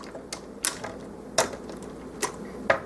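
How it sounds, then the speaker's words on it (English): Ratchet joints on a Transformers Dark of the Moon Leader Class Sentinel Prime toy give sharp, isolated clicks, about five spaced snaps over a few seconds, fairly close and crisp against a quiet background. "He has some pretty hefty, clickety ratchet joints"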